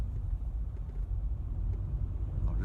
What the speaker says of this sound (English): I'm going to let the car slow down on its own